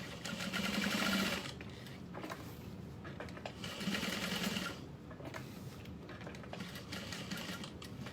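A sewing machine stitches a zipper pocket at a 3.5 stitch length for a Freesia foldover bag, with two louder bursts of fast, steady whirring and rattling joined by quieter continuous running, close and without talk.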